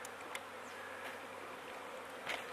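Soft, steady buzzing of honeybees hovering close by at a water pool, a continuous insect hum with brief louder passes, no voices.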